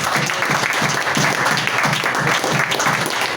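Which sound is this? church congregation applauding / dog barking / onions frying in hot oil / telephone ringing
church congregation applauding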